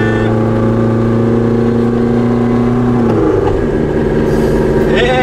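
A Renault Express diesel engine revving on a climb up a dirt track, a loud, sustained drone that holds steady and then shifts pitch as the engine works harder.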